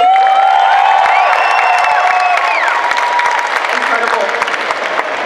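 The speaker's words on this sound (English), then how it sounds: "Do you reckon we could probably give Sam a cheer from the other side of the country just to see?" Cheering and applause from a crowd at a cosplay championship event in Perth, a loud continuous wash of clapping and shouts with whistles running throughout.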